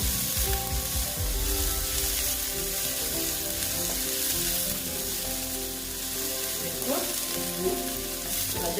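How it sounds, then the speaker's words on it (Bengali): Onion, garlic, ginger and green chilli fry together in hot oil for egg-and-potato chops, giving a loud, steady, continuous sizzle with a few faint utensil touches and no talking. "একসঙ্গে পেঁয়াজ রসুন আদা কাঁচা লঙ্কা একসঙ্গে আমি ভেজে নিচ্ছি"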